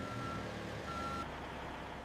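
Reversing beeps from a truck being loaded with pallets of bourbon whiskey at a distillery, a steady repeating electronic tone sounding twice over a constant engine and yard rumble, with no talk.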